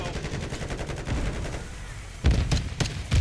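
Rapid bursts of X12 pistol gunfire in a video game, a quick run of sharp shots followed by a pause and then a few louder, separate shots near the end.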